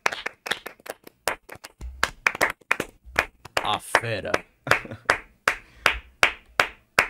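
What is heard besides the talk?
audience applause for a speaker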